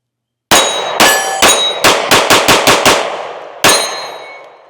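Taurus GX2 pistol shots ringing off a steel target, about ten sharp, loud clangs, the first few spaced, then a quick string of six, then one more after a pause, each with a metallic ring.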